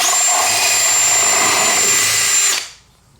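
A power drill bores holes through a bow-mount trolling motor's mounting plate, running loud and steady at close range with a continuous high whine for about two and a half seconds, then winding down abruptly into near silence.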